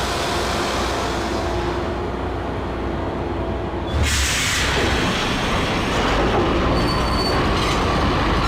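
A train in the Max Payne video game rumbles loudly along the rails with clattering wheels, then swells into a harsher, brighter rush and squeal midway that continues to the end.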